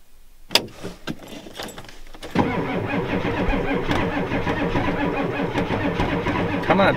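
A cold Ford F250 with a 7.3 IDI diesel cranks on a weak battery: a few brief knocks and clicks, then a loud, steady, rhythmic starter churn that keeps going without the engine catching.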